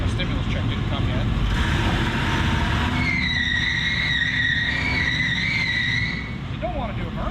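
Burnout from a 1994 Lincoln Town Car with its right rear wheel spinning: loud, continuous engine roar with a rising tire squeal over the middle seconds, steady and close throughout.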